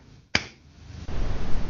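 A single sharp hand clap from someone snaps out at close range, followed by a low rumble of room noise and handling.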